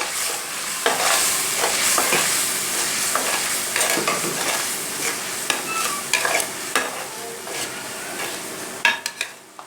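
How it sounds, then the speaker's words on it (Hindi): Red chili, turmeric and salt roast in a pan of oil for an egg and potato dish, with a continuous close sizzle under repeated spatula stirs and scrapes that grow sharper and more frequent toward the end. "मसालों को हम अच्छी तरह भून लेंगे।"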